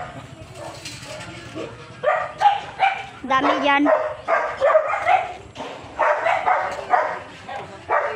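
A dog barks repeatedly in short bursts, close by, with a person talking briefly in between.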